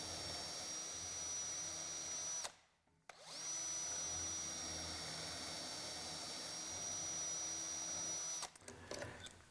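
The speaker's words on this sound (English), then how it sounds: "Tighten it up again and drill the 4 B position holes." A power drill whines steadily as it bores holes through a BeadLock drilling guide for loose tenon mortises, running for a long stretch, stopping briefly, then revving again before cutting off near the end.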